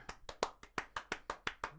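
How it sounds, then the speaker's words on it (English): Hands clapping in a steady, even rhythm of about ten sharp claps, close and fairly loud, like one or a few people applauding a guest on a podcast set, with no talk over it. "Put your hands together for Nick Tornaritis."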